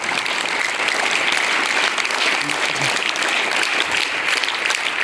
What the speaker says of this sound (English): Please give wonderful claps.